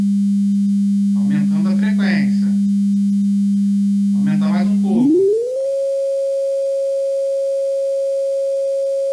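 A steady pure test tone sounds continuously under two short bursts of speech, then glides smoothly upward in pitch and settles at a higher steady tone, loud and alone.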